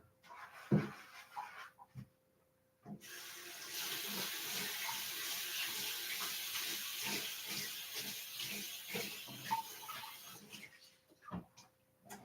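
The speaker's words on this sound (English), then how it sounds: "Let me go rinse this off." Tap water runs steadily into a kitchen sink for several seconds as something is rinsed underneath, preceded and followed by a few soft clunks and handling knocks, fairly quiet and close.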